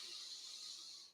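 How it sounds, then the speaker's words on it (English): A forceful Bahya Pranayama exhale pushes all the air out of the body as one long, close, breathy hiss that holds steady and then cuts off abruptly. "That sound is pushing all of the air out"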